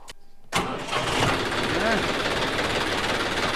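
A tractor's diesel engine cranks and catches after a brief pause, then settles into a loud, steady rumbling idle close by.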